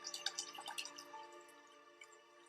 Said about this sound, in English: So I got water over here. We're gonna fill it up, the beaker,